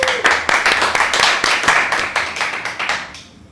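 A small group claps their hands in brisk, fairly regular rhythm for about three seconds, close and bright, before the clapping stops abruptly.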